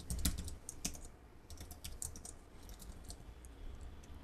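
Keys clatter on a computer keyboard while an SQL query is typed: a quiet, uneven run of close clicks, denser at the start, with no voices.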